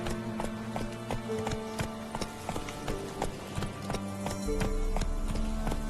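Geralt's horse Roach gallops in The Witcher 3, a steady run of clip-clopping hooves over a busy game soundscape with music and ambience.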